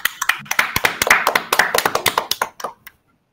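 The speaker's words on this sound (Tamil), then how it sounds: "அவருக்கு மிக கரகோஷம் ஒண்ணு கொடுங்க." Small-group applause at a Christmas programme held by a Sai bhajan group, with distinct, fairly close hand claps in an uneven rhythm that thin out and stop after about three seconds.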